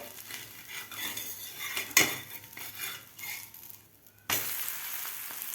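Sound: flipping a bajra thalipeeth on the pan

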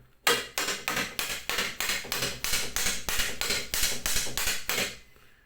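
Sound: hammering into wood for DIY electric candle decor

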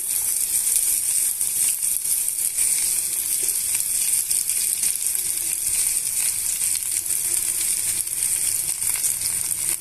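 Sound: onion and green chili pieces frying in potato tempering

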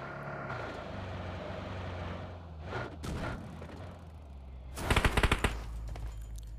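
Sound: gunfire in video game PUBG Mobile

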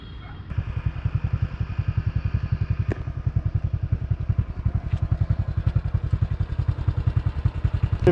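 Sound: motorbike riding on a rough mountain road

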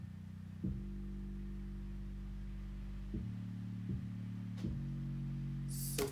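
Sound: aggressive sub bass

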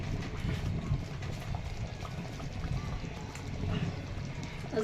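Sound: gram flour batter bubbling while cooking

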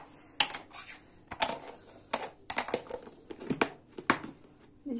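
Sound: adding salt with a teaspoon for pizza dough

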